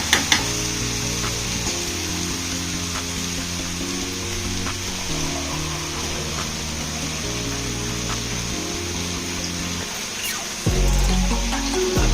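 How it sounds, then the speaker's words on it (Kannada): A glass of water pours into a pan of frying fresh pea and potato curry, a continuous rushing, hissing wash up close that lasts throughout over a humming background, with a louder surge near the end. "ಇದರಲ್ಲಿ ಒಂದು ಗ್ಲಾಸ್ ನೀರು ಹಾಕ್ತಾ ಇದ್ದೀನಿ"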